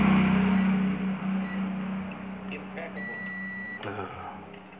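A multimeter continuity buzzer gives a single steady tone of about a second while the fuse in an LG LCD TV is being tested, set against background hum and noise.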